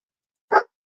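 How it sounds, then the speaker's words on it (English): A single short dog bark, close and fairly loud, alone in silence. "These bloody dogs."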